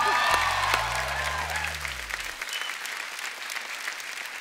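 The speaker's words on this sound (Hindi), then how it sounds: "जोरदार तालियां आयुष और सई के लिए" A television comedy show's studio audience gives loud, sustained applause to welcome guests, opening with a brief musical sting beneath the clapping.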